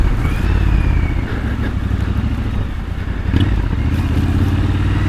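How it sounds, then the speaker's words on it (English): A Triumph Scrambler 1200 XE motorcycle with a decatted exhaust burbles steadily at close range, a rough, throaty exhaust note with crackles, holding a fairly even pace throughout. "This exhaust being decatted has definitely got a better sound to it."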